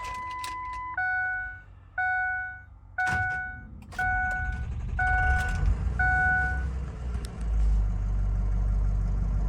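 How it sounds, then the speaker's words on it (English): A 2004 Ford Excursion Limited with a 6.0L Powerstroke diesel and 4WD, already warm, starts after a series of repeating cabin chimes, then settles into a loud, steady low idle rumble. "let me go inside and fire this thing up for you guys"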